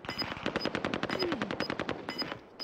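Rapid automatic gunfire in the Caldera video game, a long burst of evenly spaced loud shots close up, running steadily with a brief pause near the end.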